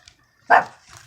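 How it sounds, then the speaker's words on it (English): A pet dog gives one sharp, loud bark, close by, in an indoor room, with only faint background sound around it. "Sorry about my dog there."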